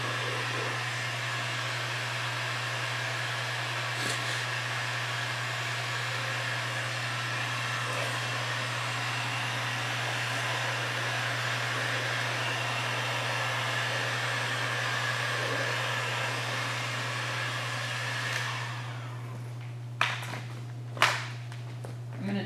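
A heat gun blows steadily while shrinking pre-cut tint film on a car's back window inside a garage, a constant loud airy hum and hiss that runs unbroken, followed by a few sharp clicks and taps at the end.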